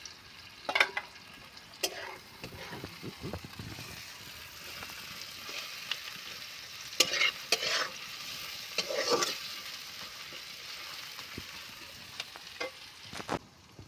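Chopped green chillies frying in a pan for a mashed plantain dish, a soft, quiet sizzle punctuated by a few sharp spatula taps and scraping stirs.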